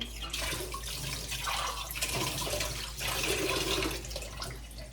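Water is poured into a small glass tumbler, a continuous close splashing and gurgling stream that carries on for about five seconds with no talking.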